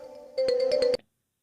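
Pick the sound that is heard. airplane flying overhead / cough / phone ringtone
phone ringtone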